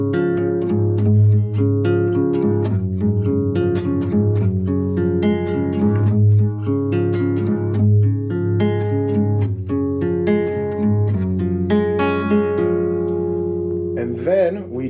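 Acoustic guitar playing a fingerpicked pattern: clear plucked notes in a steady rolling rhythm over held bass tones, close and alone for about fifteen seconds, ending with a sliding note.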